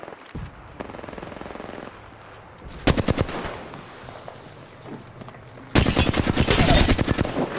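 Rapid automatic gunfire in Apex Legends comes in bursts, a short sharp volley mid-way and a longer loud sustained burst near the end, with quieter shots and movement sounds between.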